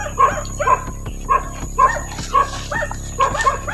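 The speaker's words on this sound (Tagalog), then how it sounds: "Yan yung aso nila naging agresibo." A dog barks aggressively in a steady series of about seven sharp, loud barks, evenly spaced and close by, over a faint constant hum.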